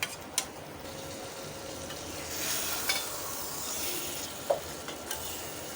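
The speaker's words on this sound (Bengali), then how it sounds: "আমি এটাকে একদম হালকাভাবে নেড়ে দিচ্ছি।" Taro leaves with chickpea lentils are stirred gently in a pan: a steady soft sizzle runs throughout, broken by a few light scrapes and taps of the spoon against the pan, with no talking.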